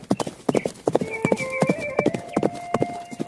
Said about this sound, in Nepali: घोडा दगुडेको आवाज सुनियो